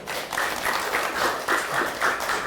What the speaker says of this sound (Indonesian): Biasa tepuk tangan dulu.